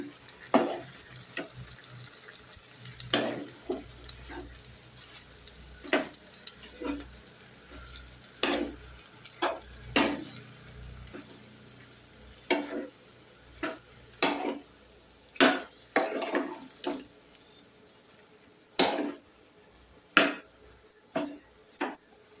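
Tomato and egg curry being stirred in a pan, with irregular scraping and clinking strokes of a spoon against metal over a soft sizzle, close by and without talk.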